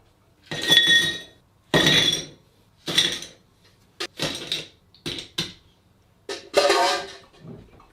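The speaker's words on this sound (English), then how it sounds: "So I'll get my Kopparberg glass and let's put in some ice." Ice cubes dropped one by one into a Kopparberg cider glass, about eight sharp glassy clinks in an irregular rhythm, close and fairly loud with quiet gaps between them.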